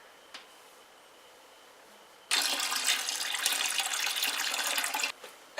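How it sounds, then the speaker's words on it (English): Beer wort being poured slowly into a fermenter, a steady splashing gush of liquid that starts abruptly after a quiet stretch, runs for about three seconds and then stops. "we are going to slowly start pouring our wort"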